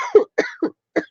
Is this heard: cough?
yes